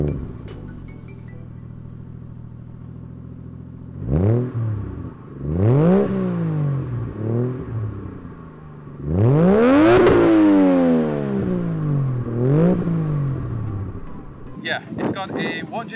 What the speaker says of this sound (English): how the car turns over and how it starts up